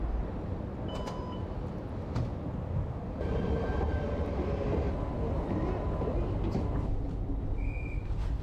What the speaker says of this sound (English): get on a train for the first time in a year and hear what all the fuss